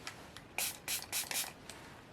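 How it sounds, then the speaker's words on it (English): A pump bottle of makeup setting spray mists a face in several short, close hissing bursts, about five spritzes in quick succession. "with the setting spray, this stuff should like set and sit here for the next 15 hours"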